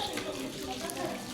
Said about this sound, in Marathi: पाऊस नाही वरून पाणी पडायचं.